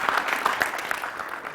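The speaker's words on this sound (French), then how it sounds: "Maintenant, applaudissements." An audience claps at a televised stage show in support of the uniformed services, with a dense, moderately loud burst of applause from a fairly close crowd that carries on throughout.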